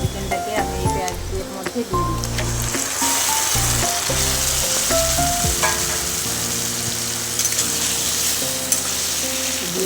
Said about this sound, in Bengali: ভালো করে কষিয়ে নেব অনেকক্ষণ ধরে